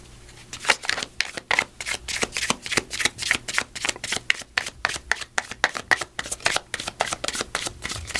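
Angel number cards are shuffled and drawn close up, giving a quick, rhythmic series of crisp riffling snaps and papery flutters that repeat steadily, with no talking.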